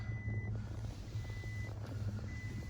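A 2017 Toyota Hilux 2.4 D4-D's key-left-in-ignition warning chime beeps in short, evenly spaced tones, fairly faint, over a steady low engine-like rumble and wind, with no talking.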